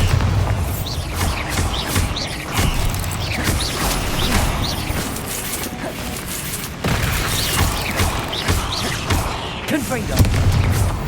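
Bombarda spell blasts ring out amid a busy dragon battle in Hogwarts Legacy, heavy booms and creaking mechanical clatter layered over dense game music and effects, with a voice calling out spells throughout.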